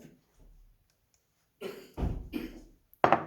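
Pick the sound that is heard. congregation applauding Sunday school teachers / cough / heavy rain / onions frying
cough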